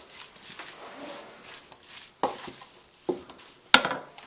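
Tofu and seasoned buttered bread are stirred together in a bowl for a vegetarian meatloaf, soft scraping and squishing strokes with a few sharper clinks of utensil against the bowl, fairly quiet and irregular.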